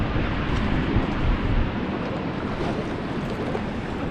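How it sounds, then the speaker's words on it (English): Whitewater rapids on the river at Rishikesh during a rafting run roar as a loud, steady broadband wash of rushing water and spray, close and continuous throughout with no voices. "so our next rapid is coming"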